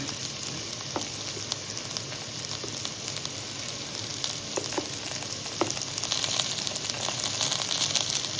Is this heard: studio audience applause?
no